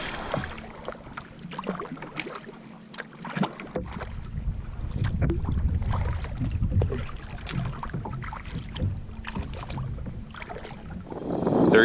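A Wilderness Systems Tempest 170 touring kayak is paddled on open water, with repeated dips and splashes of the blade, water swishing along the hull and gusts of wind buffeting the microphone.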